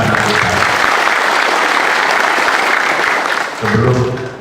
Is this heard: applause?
yes